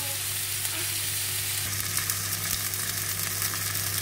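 Beef burger patties fry in a pan for a home-made hamburger, giving a steady, close sizzle of hot fat with faint stirring, continuous and even throughout with no talk.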